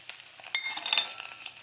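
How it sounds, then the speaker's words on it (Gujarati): Cumin seeds and green chillies sizzle in hot oil while tempering for aloo paratha filling, a close, crackling spatter with scattered pops, steady and fairly quiet, no voices. "તેલ ગરમ થઈ ગયું છે. તેમાં આપણે જીરું નાખીશું, લીલા મરચાં નાખીશું"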